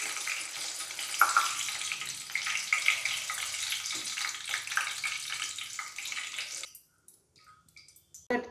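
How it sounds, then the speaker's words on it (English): Curry leaves fried in hot oil on a switched-off stove while making a Diwali snack mixture give a busy, steady sizzle and crackle that suddenly stops, leaving quiet with a few faint clicks. "you can fry the curry leaves"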